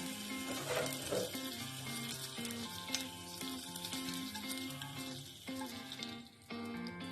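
White cooking oil sizzles and hisses in a hot kadai, a steady continuous frying crackle that stays close and fairly loud throughout, with faint clinks of utensils and no talking.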